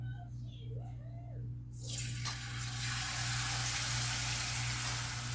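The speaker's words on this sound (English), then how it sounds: "go ahead and dredge it in the what do you call it, in this thing, and gonna let the excess drip off and go ahead and add it to the oil" Chicken pieces dredged in a cornstarch coating hit hot oil and set off a loud, steady frying sizzle that holds for several seconds over a constant low hum, with no talking.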